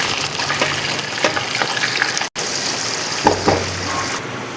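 Chopped onion sizzling and frying in hot oil for a chicken karahi, a steady loud crackling hiss with a brief break midway, then continued bubbling, close and without talk.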